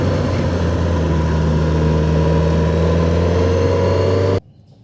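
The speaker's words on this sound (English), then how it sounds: "You might be able to hear the bikes off in the distance now." Motorcycles travel a winding mountain road, the Back of the Dragon, heard as a steady droning engine hum with sustained tonal layers that cuts off abruptly near the end.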